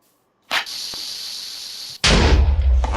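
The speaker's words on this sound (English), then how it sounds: "It follows you and explodes a lot faster than the normal bomb" Bomb enemy blowing up in Minecraft with the Mariocraft mod: a sharp pop, a steady hissing fuse-like tone, then a loud booming blast at close range, with no talk.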